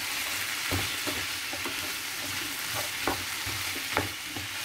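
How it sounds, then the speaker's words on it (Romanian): Ham and prosciutto crudo sizzle in a pan, with a steady frying hiss broken by repeated scraping stirs and a few louder knocks of the utensil. "Călim cu hamonul, prosciutto crudo"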